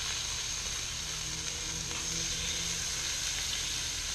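Meat juice hits a hot flat-top griddle while Philly cheesesteak is cooked, giving a loud, continuous close sizzle with a faint scraping underneath.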